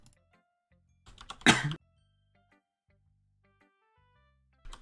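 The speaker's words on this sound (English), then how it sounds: "I'm going into a coughing fit, obviously." A single burst of coughing rises sharply in the middle, loud and close, with near silence on either side and a faint electronic chime at the end.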